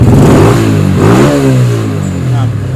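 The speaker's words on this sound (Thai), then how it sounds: "เครื่องก็เงียบเร่งดีครับ" A Yamaha Spark 135 motorcycle with a carbureted engine revs up close and loud, its pitch climbing and falling through a throttle blip before settling back to a steady run.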